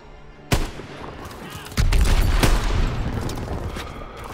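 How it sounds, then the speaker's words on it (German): Gunfire in the World War II shooter Call of Duty: WW2, with a sharp shot followed by sustained, heavy bursts of machine gun fire and explosive booms, loud and close. "Ach, das MG."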